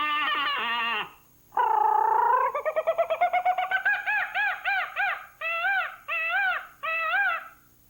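A jungle sound effect of birds: a few cooing, warbling calls followed by a rapid series of rising, whooping bird notes, then three separated chirping bursts, all clear and close in a quiet setting.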